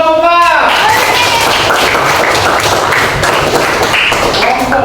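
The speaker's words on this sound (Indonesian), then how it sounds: "Kelompok 4, tepuk tangan kelompok 4." A classroom of students claps together for a group, a burst of rhythmic applause that follows a teacher's closing words and continues steadily before fading as a voice returns at the end.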